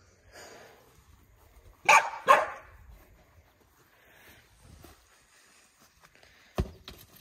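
A dog barks while playing with a ball outdoors at a country house: two sharp close barks in quick succession, faint movement sounds between, then a single bark later.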